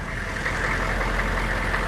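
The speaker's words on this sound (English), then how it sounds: "and now the engine's running." Diesel engine of a converted school bus skoolie idling steadily after glow-plug warm-up, a continuous low rumble with mid-range clatter, close and even throughout.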